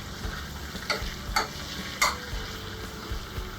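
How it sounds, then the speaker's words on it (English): Butter melting in a pan for a cinnamon roll casserole is stirred, giving a few soft scraping strokes over a faint sizzle, close and quiet. "let's stir this butter just a little bit"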